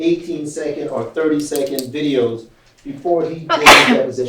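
A single sharp sneeze during a legal deposition, bursting out near the end right after a man's spoken question.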